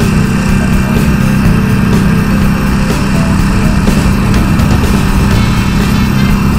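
A sport bike's engine droning loud and steady while riding on a road trip, a continuous high-revving buzz mixed with wind rush, with no pauses or shifts in level.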